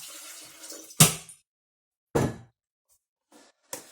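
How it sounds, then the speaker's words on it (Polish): Water is poured in short separate bursts into a switched-on electric kettle, three splashy pours with quiet gaps between them, close by. "dolałem wody do włączonego czajnika"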